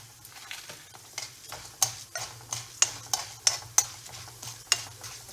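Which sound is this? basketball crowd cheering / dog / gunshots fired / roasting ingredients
roasting ingredients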